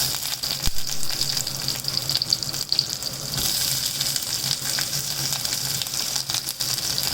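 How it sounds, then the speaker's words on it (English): Onions drop into hot oil already holding mustard seeds, methi and red chili, bringing a steady, close hiss and crackle that stays loud and even for several seconds, with no one talking. "Now I'm going to add onions."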